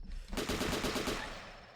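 AK rifle fire in a video game: a rapid automatic burst of close, loud shots starting abruptly after a brief quiet moment and rattling on steadily to the end.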